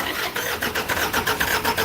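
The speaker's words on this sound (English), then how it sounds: "All right, go ahead and crank it." A 3.9-liter Isuzu engine cranks in a garage with a rapid, rhythmic pulsing of the starter turning it over, loud and close, with no clear catch into running.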